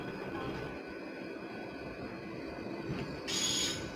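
A Machilipatnam Express passenger train rumbles on at a station in a steady, close roar, with a brief brighter hiss rising near the end.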